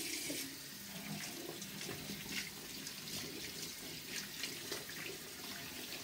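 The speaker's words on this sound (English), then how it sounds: "The water is still running." A tap runs steadily into a sink while hands are rinsed during hand-washing, a continuous close splashing stream with no talk.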